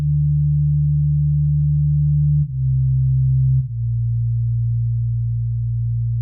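A house synth chord built on a root note: a smooth, sustained low tone held alone at steady loudness, with two brief dips where it shifts to slightly different pitches.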